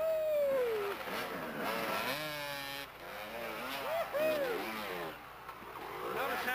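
Several dirt bike engines rev hard and pull away at the start of a 1994 ISDE qualifier hare scramble at Lake Nimrod, Arkansas, with rising and falling whines overlapping, loud and close.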